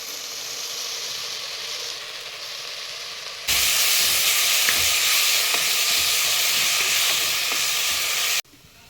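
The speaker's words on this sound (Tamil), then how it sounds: "முருங்கைக்கீரை நல்லா வதங்கிருச்சு" Drumstick leaves sauté in a pan, a steady sizzle and hiss that jumps louder partway through as the pan heats up, then cuts off abruptly near the end; no one speaks.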